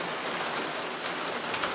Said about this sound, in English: It's not my fault it's raining.